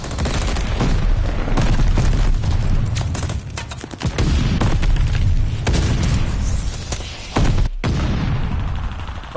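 Heavy, continuous shotgun and weapon fire in the Call of Duty Vanguard video game, loud booming blasts packed close together across the whole stretch, with only a brief break near the end.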